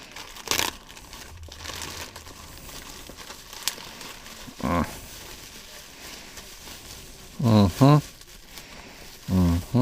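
Packaging for a Roxsen focal reducer adapter being unwrapped: soft plastic crinkling and rustling in scattered bursts, fairly close and moderately quiet, with a few brief voiced sounds from someone nearby.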